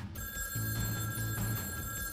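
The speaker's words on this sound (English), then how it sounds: "While I'm talking to him, the phone rings." An old-style telephone bell rings indoors in a short burst, steady and fairly clear against a faint background hum.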